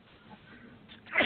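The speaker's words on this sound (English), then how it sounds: "Gonna sneeze." A person sneezes once near the end, a sudden sharp burst after a quiet stretch of faint breath and room noise.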